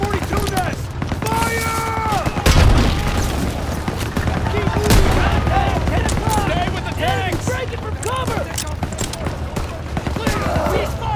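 Rapid rifle and machine-gun fire crackles through a trench battle in Call of Duty WW2, near and loud, under shouted commands and overlapping voices, with a couple of heavier thumps mixed in.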